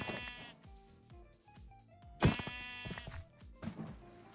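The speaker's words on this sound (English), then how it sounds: "Oh, hello sheep." Sheep in the Minecraft video game bleat repeatedly in short wavering calls, with the game's soft hitting and thunking sounds between them and no talking.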